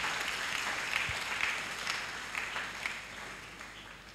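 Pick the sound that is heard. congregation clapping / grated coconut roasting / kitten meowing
congregation clapping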